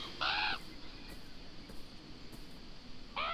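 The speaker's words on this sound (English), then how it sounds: "Y'all stinky crows." Two bursts of crow caws from the Beyond Eyes video game, one near the start and another at the end, loud and harsh over a quiet ambient background with a long gap between them.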